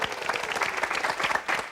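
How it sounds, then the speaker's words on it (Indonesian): Brief burst of studio audience applause on a television game show, steady, fairly quiet clapping filling the whole moment. "Tepuk tangan"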